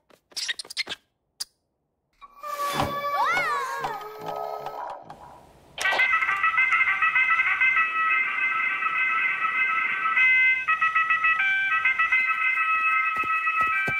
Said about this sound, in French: c'est mon réveil!